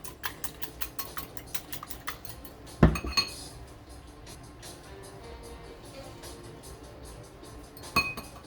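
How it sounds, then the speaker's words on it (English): A whisk clinks rapidly against a bowl of cracked eggs for a low-carb keto cheesy bread, a quick run of light metallic taps followed by two sharper knocks and softer intermittent stirring. "So I got my eggs cracked. Let me give it a nice whisk."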